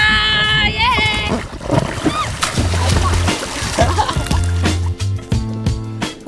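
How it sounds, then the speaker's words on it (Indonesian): Water splashes and sloshes as someone swims in the sea, with people talking over it and some music at the start. "saya tetap bisa merasakan sensasi berenang seperti kolam renang tapi di tengah pantai"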